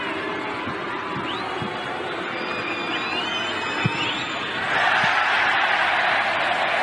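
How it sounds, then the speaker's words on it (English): Home fans at a football match make a steady roar of crowd noise, with whistles and chanting on top, swelling louder near the end as a big cheer rises. "Biggest cheer of the night."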